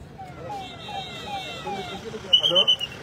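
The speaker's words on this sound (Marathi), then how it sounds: "पोलीस गाडी आलेली आहे" A police car siren wails from a distance, its rising and falling tone sweeping over background chatter at a roadside political visit, followed by a few short, sharp electronic blips.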